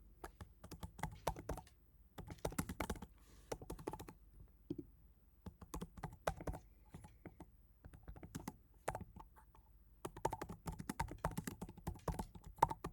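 Someone types on a computer keyboard in quick, irregular bursts of close key clicks. Short pauses separate the bursts, and no voice is heard over them.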